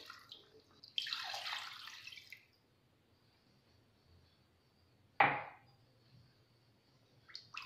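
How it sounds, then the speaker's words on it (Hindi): Milk poured into a pan while cooking shahi paneer, a soft splashing pour that fades out, followed by a single sharp knock of a utensil, all in quiet surroundings with no talk. "अब इसमें 2 कप हम दूध डालेंगे।"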